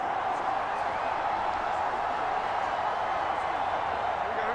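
Steady roar of a stadium crowd in a Madden NFL game, New York Giants against New England Patriots, a broad constant wash of cheering with no clear breaks, heard alone with no voices on top.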